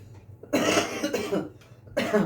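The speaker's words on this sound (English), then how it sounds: "Still coughing up that crud." A person with a lingering chest cold coughs up phlegm, two close harsh bursts of wet coughing separated by a brief pause, with a softer throat-clearing sound before them.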